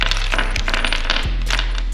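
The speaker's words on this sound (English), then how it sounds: "next, I'm gonna get your provided bolts that they give you." Metal bolts supplied with new car parts are handled and dropped, ringing and clinking close by in a short, busy run of metallic clatter.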